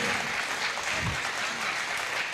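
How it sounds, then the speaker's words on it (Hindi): Audience clapping at a poetry recital event, a dense, steady burst of applause from a crowd held at even loudness throughout. "एक बार तालियां बजाइए।"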